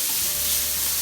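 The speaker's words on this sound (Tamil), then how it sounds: "ஒரு 5-7 மினிட்ஸ் நல்லா வதங்க விடுங்க" Leeks, ginger and garlic sautéing in a pan for chicken pasta, a short burst of steady close sizzling hiss with no voices.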